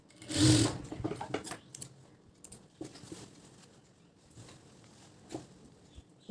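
A sewing machine runs in short bursts while stitching the neckline fabric of a blouse, close and clear, with quiet pauses and small handling noises between runs.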